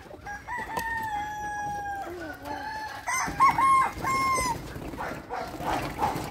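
Several chickens cluck and squawk close by while a rooster crows loudly, with a faint dog bark and brief voices in the background.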